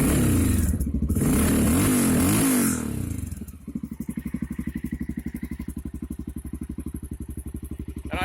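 A Honda XR650L single-cylinder motorcycle with a 10.5:1 Wiseco piston: a loud close starter crank and churn for under three seconds, then the engine catches and settles into a fast, even, thumping idle.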